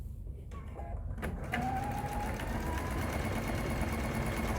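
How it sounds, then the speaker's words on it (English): A sewing machine stitches a quarter-inch seam across a fabric triangle for a star table runner, a steady, fairly quiet whirring hum that starts after a few soft handling clicks and runs on evenly. "Taking it to my machine and sewing my 1/4 inch."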